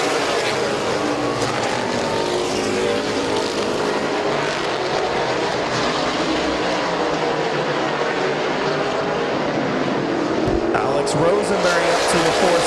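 Race cars racing at Midvale Speedway, a continuous roar of engines blending with crowd and track ambience, steady and loud, with a commentator's voice running over the top.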